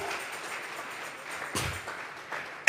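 A church congregation claps as an offering of applause during a Sunday service, a soft, continuous patter of many hands with a brief louder swell partway through.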